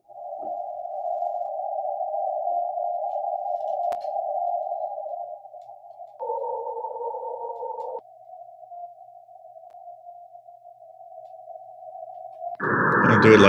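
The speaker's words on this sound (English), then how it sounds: "Check out if I hear in a minute the number station in Morse code on 7732 CW." A steady shortwave tone hums from the M12 numbers station on 7732 kHz, carrying a Morse code transmission that shifts pitch briefly midway before a burst of static at the end.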